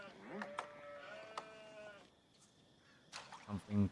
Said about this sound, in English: it looks like Numudan is going to be able to grab up a lot of the remaining sheep there